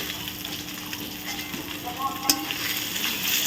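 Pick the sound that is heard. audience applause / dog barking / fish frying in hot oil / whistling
fish frying in hot oil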